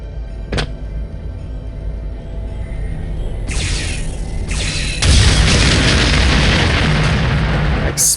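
Explosions and weapon blasts in the first-person shooter Star Trek Voyager: Elite Force, a sharp bang early, then a dense, loud rumbling barrage building into sustained booming toward the end, with no talk.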